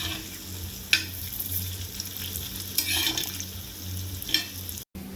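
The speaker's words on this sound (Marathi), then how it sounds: "हे बघा, व्यवस्थित चॉकलेटी अशा आपल्या वड्या फ्राय झाले होत आहेत" Coriander and gram flour vadis frying in a pan over medium heat give a steady sizzle, with a few sharper crackles and spatula scrapes breaking through.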